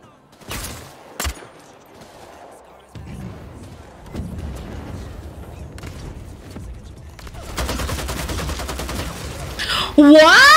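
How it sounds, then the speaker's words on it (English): Bursts of video game gunfire crackle intermittently, first as a couple of sharp isolated shots, then as a denser, louder stretch of rapid fire near the end, mixed with game ambience and background voice. "The entity is shooting at someone."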